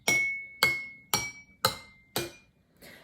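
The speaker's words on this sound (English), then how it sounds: "So these last 2 kind of have a lower sound compared to these more full cups, which have a higher sound." Glass cups holding different amounts of water are tapped one after another, giving five ringing strikes about half a second apart with a sustained tone, followed by a softer sixth tap.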